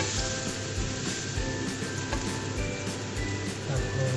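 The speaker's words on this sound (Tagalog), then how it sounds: "Painitin na konti yung mantika, kawanin. Tapos gigisain po natin." Cooking oil sizzles steadily in a hot pan while sautéing begins, a close, continuous frying hiss with soft rhythmic pulses and no talking.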